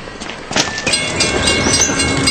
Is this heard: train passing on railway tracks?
yes